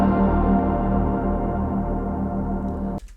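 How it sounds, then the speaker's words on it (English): Music drenched in a very long Valhalla Vintage Verb reverb tail rings as a dense, sustained wash of tones with no clear attacks, loud and steady, then cuts off suddenly near the end. "I'm gonna pull the Valhalla Vintage Verb to freaking 12 seconds."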